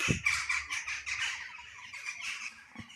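Crows squawk and caw from small trees at dusk, several harsh calls in quick irregular succession, moderately close with a quiet background.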